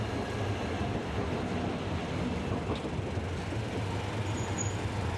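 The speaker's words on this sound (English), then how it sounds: "What's that coming down the street? Why, it's a tram!" A single-car tram rolls along a street in Hakodate, a faint, steady rumble of wheels on rails under diffuse city ambience, without talk.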